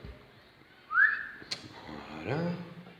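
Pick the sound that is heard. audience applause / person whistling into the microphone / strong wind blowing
person whistling into the microphone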